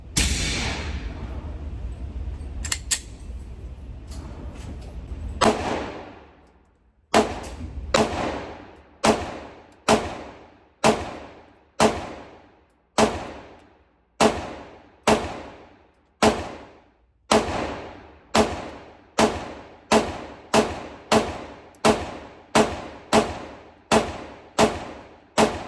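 Taurus GX4 XL pistol fired at a shooting range: after a few seconds of noisy ambience, about twenty sharp, loud shots ring out in a steady series with short gaps, each decaying quickly, and no talk is heard.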